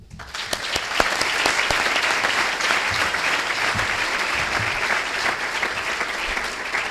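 Sustained applause from an awards ceremony audience honoring healthcare professionals, dense steady clapping filling the whole stretch with no talk over it.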